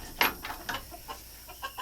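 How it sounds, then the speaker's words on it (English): Young chickens, a mix of hens and growing roosters in a backyard pen, give a few soft scattered clucks and short calls, faint and fairly close, with quiet pauses between. "I think the bigger ones are actually going to be roosters, they are roosters."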